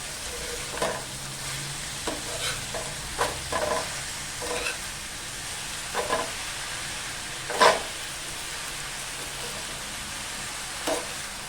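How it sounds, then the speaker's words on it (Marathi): Kurdu leaf bhaji being stirred in a pan, a soft background sizzle broken by scattered scraping and clinking strokes of a spatula, one louder knock near the middle, with no talking. "आता आपण भाजी ना व्यवस्थित अशी मिक्स करून घेऊया"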